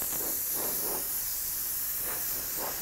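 Airbrush spraying paint to lay down smoke over a flame design, a continuous close airy hiss held steady throughout.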